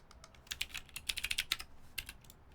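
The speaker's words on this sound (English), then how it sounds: "This Haka has some clicky switches." Clicky Otemu Phoenix 68 gram switches on a mechanical keyboard, typed in short bursts of sharp, bright, fairly quiet keystrokes with brief pauses between them.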